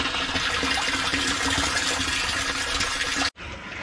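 Water is let run into a pond filter barrel, a steady rushing gush that pours continuously before cutting off abruptly near the end, then resumes more faintly.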